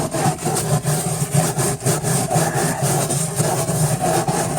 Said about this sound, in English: the wire brush, and this is why I use a stainless steel wire brush, will take all of the rotten wood out